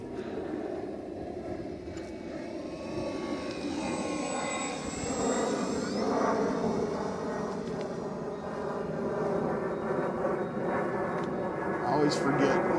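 A radio-controlled model airplane, flying tail heavy, drones steadily overhead with its engine pitch rising and falling as it passes, heard at moderate distance under outdoor wind and background chatter.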